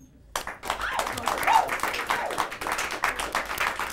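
Clapping bursts in suddenly after a short silence, a small podcast audience applauding in a close, uneven patter that continues steadily to the end, with a brief voice-like squeal riding over it near the middle.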